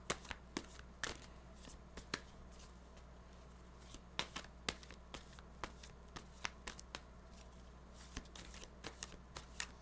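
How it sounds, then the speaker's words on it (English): Tarot cards are shuffled and pulled during a reading, giving soft, close, irregular riffles and snaps over a quiet room hum, with no talking. "And then pulling clarification cards for the top row."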